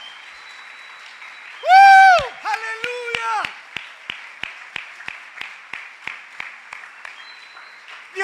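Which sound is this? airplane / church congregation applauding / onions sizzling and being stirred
church congregation applauding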